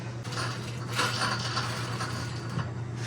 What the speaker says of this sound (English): that little grinding noise is my chain